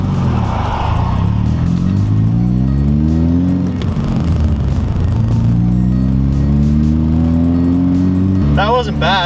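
A car labours up a hill, its engine climbing in pitch through repeated rising sweeps as it accelerates, loud and close from inside the cabin, with a brief shift near the end.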